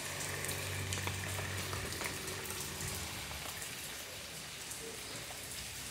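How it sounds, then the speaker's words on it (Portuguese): Steady rain falls on surfaces in a dense, even hiss with scattered drop patters, continuous and moderately loud, with no talking. "que é o som de chuva"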